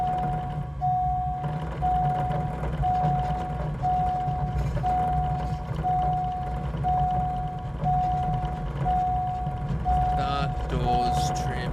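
A steady warning beep repeats at an even pace, roughly once a second, in an aircraft cockpit in Flight Simulator 2024, running throughout over engine hum and a person talking.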